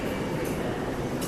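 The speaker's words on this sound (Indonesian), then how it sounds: "Di jalur 4 baru saja diberangkatkan KA 252 Jayakarta dari stasiun Pasar Senen menuju stasiun Surabaya Gubeng." The KA 252 Jayakarta passenger train leaves a platform at Jatinegara station in Jakarta, heard as a steady, continuous rumble and rail noise with no clear breaks.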